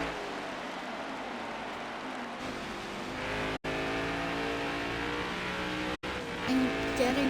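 A race car circling New Hampshire Motor Speedway, its engine droning steadily and loudly from onboard, briefly cutting out twice before the throttle comes back up toward the end.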